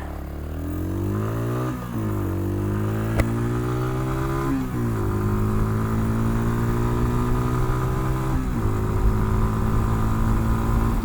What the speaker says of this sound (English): It's just a standard motorcycle with a 250cc single.